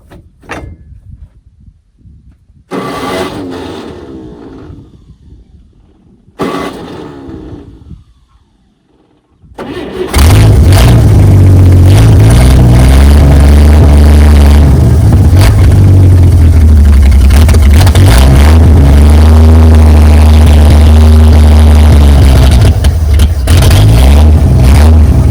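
A 1959 GMC truck, cut out of a tree after long disuse, cranks in a few short attempts, then fires up into a loud, rough, uneven running engine that surges close by without settling to a clean idle.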